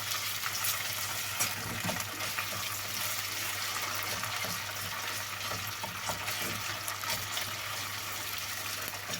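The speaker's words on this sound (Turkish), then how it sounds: "Salçayı şöyle hafif kavuralım ki bunun içinde salça tadı kalmasın" Tomato paste frying in a pan, heard as a steady, broad sizzle that holds for the whole stretch, with faint scattered clicks of stirring mixed in and a low constant hum underneath.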